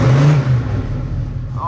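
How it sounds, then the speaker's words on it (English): A 1970 Chevy Nova with a stroker engine revs close up, a brief throaty rise in engine pitch that fades, with speech audible over it. "listen to that stroker go."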